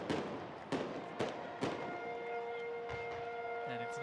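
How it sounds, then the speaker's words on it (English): Fireworks at the USA Cup 2017 opening ceremony crack and thump in several sharp bursts over a constant crowd and ambient din, with a siren-like tone rising near the end. "I don't know if they knew there were fireworks going to be going off."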